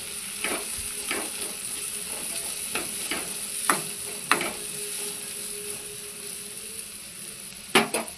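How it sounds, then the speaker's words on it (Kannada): Chopped onion and green chillies fry in hot oil for egg masala, a constant low sizzle broken by repeated sharp spatula scrapes and knocks against the pan, with no one talking. "ಇದು ಫುಲ್ಲು ಗೋಲ್ಡನ್ ಕಲರ್ ಫ್ರೈ ಆಗಬೇಕಿದು, ಅಲ್ಲಿವರೆಗೂ ಫ್ರೈ ಮಾಡ್ತೀನಿ."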